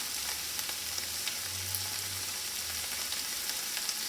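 Corn kernels fry in a pan for a Mexican street corn salad, giving a steady, close sizzle with faint crackles throughout and a low hum underneath.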